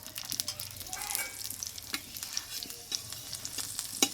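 A roti-based Bengali tiffin fries in a spoonful of white oil in a pan, giving a continuous soft sizzle broken by light scrapes and ticks of the spatula.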